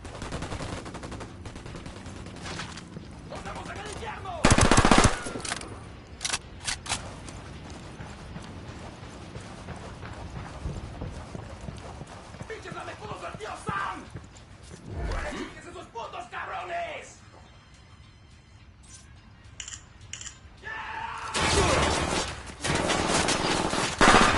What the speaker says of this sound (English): Hold up, they're gonna see you. I'm opening fire.